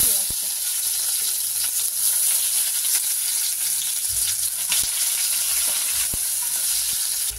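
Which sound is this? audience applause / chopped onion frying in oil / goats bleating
chopped onion frying in oil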